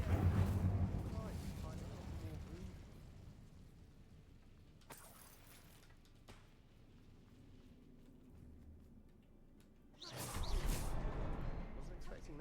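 Fire spell Incendio cast in a Harry Potter Hogwarts video game: a sudden roaring whoosh of flame bursts out late, loud and broad, after a quieter stretch of low ambient rumble and a brief earlier flare.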